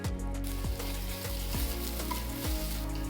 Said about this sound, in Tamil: 1/2 டீஸ்பூன் இஞ்சி பூண்டு விழுது போட்டு வதக்குங்க.